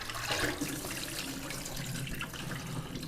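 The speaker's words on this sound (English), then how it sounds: "get our shucks out of the water here" Soaked corn husks are lifted from water for tamales, with water splashing, dripping and draining steadily close by, alone without talk.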